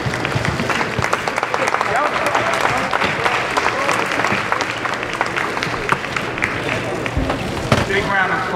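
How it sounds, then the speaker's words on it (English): Loud, sustained applause from a press conference audience after the Mayweather vs McGregor fight, with cheering and crowd voices mixed in, continuing steadily throughout. "Big round of applause for 2 classic dudes."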